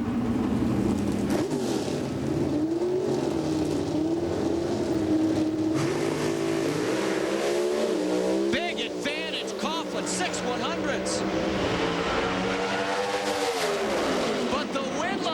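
NHRA drag racing cars at the 2003 Fram Autolite Nationals roar continuously with a loud, heavy engine drone that shifts in pitch as they launch, while an announcer talks over the din throughout.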